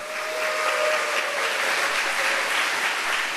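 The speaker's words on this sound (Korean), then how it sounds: "우리 성교사님 나오실 때 박수 한번 뜨겁게 쳐주세요." A church congregation at a youth worship gathering applauds warmly to welcome a missionary, a dense, even roar of many hands that holds steady throughout, with a faint tonal whistle-like sound early on.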